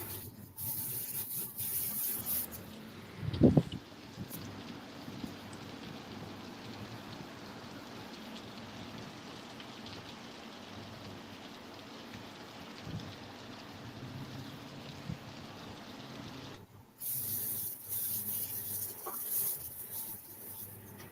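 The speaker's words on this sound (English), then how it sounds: "Is that rain I hear?" Heavy desert rain pours down in a constant dense hiss, with a sharp close knock early on and a thunder-like rumble under the wash, holding steady before briefly dropping away near the end; no talking.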